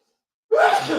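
A single close, loud sneeze bursts out after a half second of silence, sharp at the onset and trailing off in a breathy spray.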